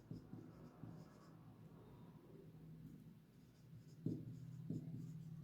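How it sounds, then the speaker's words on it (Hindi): A pen scratches on paper as an accounting entry narration is written out, soft continuous strokes with a few heavier touches near the end, close and alone with no talk. "हम इसके लिए नरेशन लिखेंगे"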